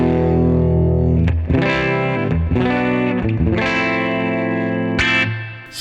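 An electric guitar played through a clean ML Sound Lab Gemini amplifier modeled on a Fender amp rings out in sustained chords, with brief gaps as the strings are re-struck, loud and alone.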